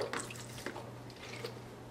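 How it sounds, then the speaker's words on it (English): Isopropyl rubbing alcohol, 91%, poured onto the metal gears of a heavy duty ball winder, a light trickling and dripping of liquid that runs steadily and close by for a couple of seconds. "I'm going to pour some rubbing alcohol"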